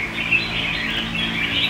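Caged pet songbirds chirp in quick, bright, overlapping tweets, close and steady with no voices.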